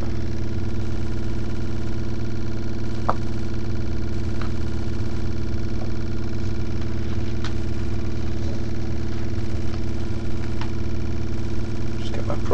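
A Bedini motor runs steadily, giving a continuous low hum with faint mechanical whir and a few small clicks throughout, close and even in level.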